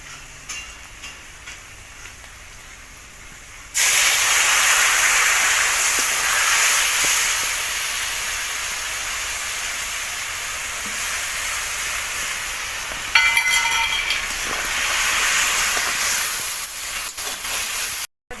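Spice paste of ginger, cumin, chili and turmeric in a pan for a fish and potato curry bursts into a loud, steady sizzle as spice water goes in, hissing strongly for the rest of the clip.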